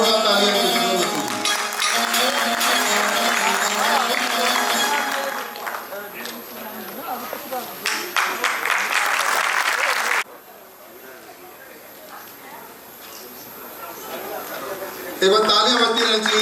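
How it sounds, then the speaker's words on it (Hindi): Loud applause from an audience at a Hindi-language event, a dense sustained roar of clapping that eases off partway, then swells again near the end, with voices and cheering mixed in. "एक बार जोरदार तालियां"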